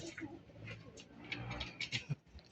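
A faint, soft cooing from a nearby pigeon, a few low throaty calls amid quiet background rustling.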